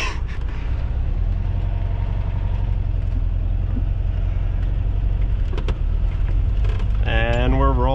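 A VW Bus engine idles and hums steadily as the vehicle pulls away and rolls, a constant low drone heard from inside with faint clatter and a whining tone near the end.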